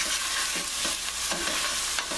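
Vegetables cook in a hot pan, a dense, loud, steady sizzle with soft stirring scrapes repeating throughout and no voices.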